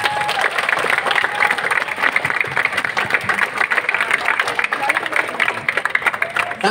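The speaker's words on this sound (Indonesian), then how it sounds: "Tepuk tangan yang meriah buat semuanya." A crowd at a school assembly breaks into lively applause, loud dense clapping that holds steady throughout, with voices murmuring underneath.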